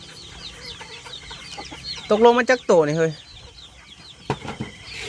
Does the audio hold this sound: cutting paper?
no